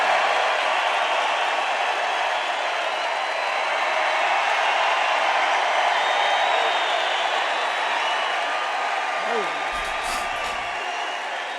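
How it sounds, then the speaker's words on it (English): Rally crowd applauding and cheering in a large venue, a dense steady roar of clapping and voices sustained throughout, easing slightly near the end. "I don't think I've ever introduced anybody that got applause like that"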